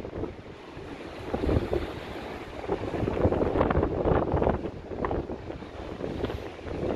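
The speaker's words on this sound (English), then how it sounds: "It is windy. You can tell by the sea." Gusty wind buffets the microphone on the seafront at Blackpool, with a steady broadband roar of whitecapped surf underneath, rising and falling in strength.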